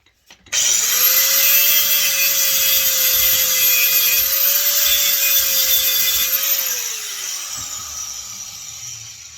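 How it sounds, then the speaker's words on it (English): An angle grinder cuts through a scrap gym light transformer with a loud, sustained high-pitched whine that holds steady for about six seconds, then winds down as the disc slows. "I just take the old trusty grinder"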